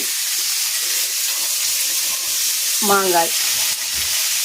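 Mango pieces sizzle and fry in Dalda with tomato and asafoetida for a sardine and mango fish curry, a steady loud hiss throughout with a brief stirring scrape and a short spoken word.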